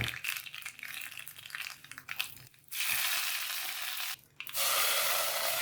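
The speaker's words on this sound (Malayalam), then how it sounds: "ഇനി നമുക്ക് ഒന്ന് കടുക് വറുത്തിടാം." Mustard seeds spluttering in hot oil for a tempering over Kerala pineapple pachadi, a dense crackling sizzle that pauses briefly twice and surges back loud and close, with no voices.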